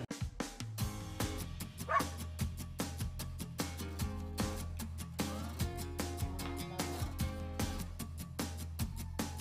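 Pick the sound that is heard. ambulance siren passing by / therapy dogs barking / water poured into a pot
therapy dogs barking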